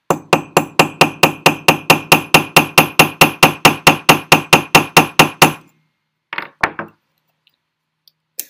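A hammer strikes a tube rivet to flare its end, about twenty quick, evenly spaced metallic blows, loud and close, before stopping abruptly. A couple of faint handling knocks follow in the quiet.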